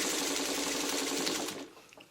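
A sewing machine runs quickly while stitching a quilt, a dense rapid mechanical whirr of needle strokes that stops abruptly near the end, leaving a few faint clicks.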